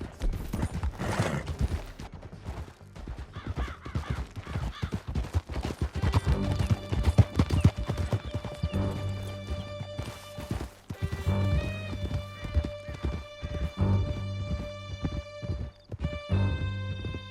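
Horses gallop hard in Red Dead Redemption 2 as riders flee through a canyon: steady hoof clatter with a whinny, scattered gunshots, and a musical score rising over the ride.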